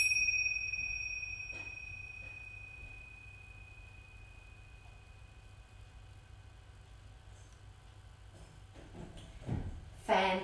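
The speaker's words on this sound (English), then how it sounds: "listening for a sound, listening for the bell" A single bell is struck once for a family yoga listening exercise in a quiet room, its clear ringing tone hanging and slowly fading over several seconds, followed by soft shuffling and handling noises near the end.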